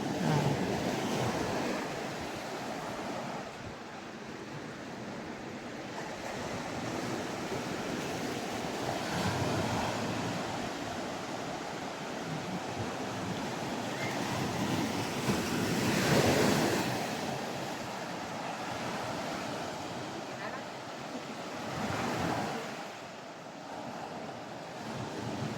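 Strong ocean waves at a Batangas beach in the Philippines: a continuous loud roar of surf with swelling breakers and gusting wind buffeting the microphone, no voices heard.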